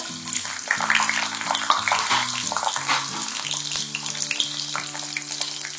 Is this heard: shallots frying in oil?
yes